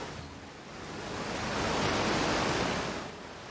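Loud rushing water waves in the Outer Wilds video game, a steady broadband surf that swells in the middle and eases off again, heard alone without talk.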